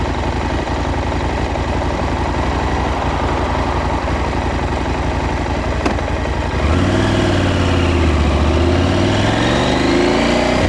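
KTM 890 SMT motorcycle engine idling while stopped at traffic lights, a steady close low rumble that deepens and swells toward the end as the throttle is opened.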